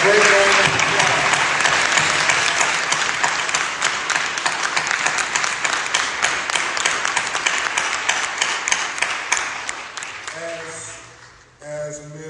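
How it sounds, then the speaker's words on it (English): An audience at a news conference breaks into sustained applause, dense clapping that starts loud and gradually thins out over several seconds, and a voice speaks over the tail end. "Can we give the activists and the community leaders a great round of applause?"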